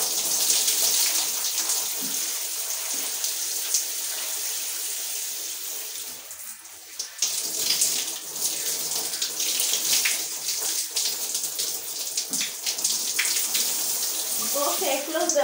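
Water runs steadily from a bathtub tap while braids are washed, a continuous close rushing hiss that briefly dips midway, with people talking over it now and then.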